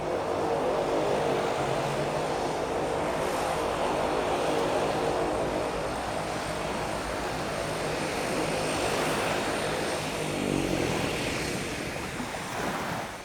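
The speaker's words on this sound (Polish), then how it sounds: "Kilka godzin później do rozbitków dociera hydroplan PBY Catalina" A PBY Catalina seaplane's propeller engines drone loud and steady over open sea, the continuous roar blending with rushing waves and surf.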